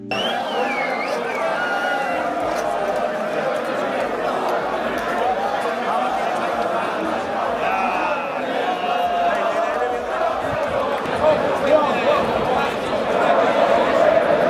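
A large crowd in Munich during the Euro Cup game between Scotland and Germany fills the air with a steady, dense murmur of overlapping voices and chatter that holds throughout.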